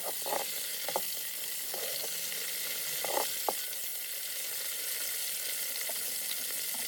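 Ingredients with raisins fry in a pan for milk pulao, producing a steady, moderately loud sizzle with intermittent stirring scrapes and knocks, strongest early on, then settling into an even hiss; no talking.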